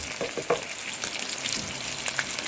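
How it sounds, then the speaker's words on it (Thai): Mackerel (pla thu) frying in hot oil, a steady sizzle with sharper crackles and pops spread through, close and fairly quiet, no voices. "ต่อด้วย ทอดปลาทูจ้ะ"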